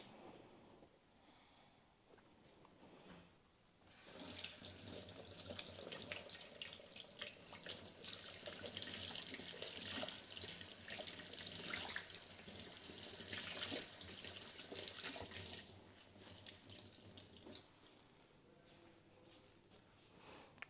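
Water runs from a tap while a stove is rinsed, a steady splashing rush that starts after a quiet moment, continues for over ten seconds, then drops back to a softer trickle.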